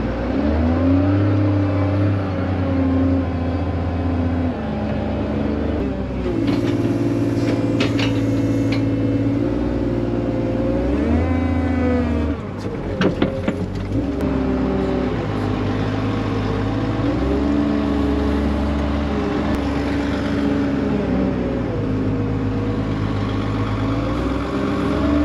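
A New Holland loader engine running on a farm, a loud steady diesel drone that rises and falls as it revs and works, continuing throughout with no talking.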